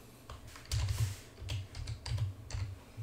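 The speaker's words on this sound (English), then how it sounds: "now I'm going to type a word" Close, quiet clatter of keys on a computer keyboard as a short word is typed, several quick keystrokes in small uneven bursts with no talking.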